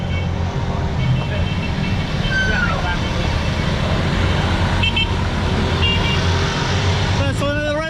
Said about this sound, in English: Peak hour traffic in Tokyo.